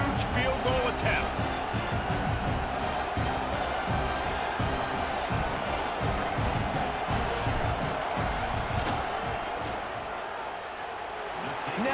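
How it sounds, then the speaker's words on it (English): Video game stadium crowd in College Football 26 during a big field goal attempt, a dense, steady roar that stays loud throughout and eases slightly near the end. "this crowd knows this is a huge field goal attempt"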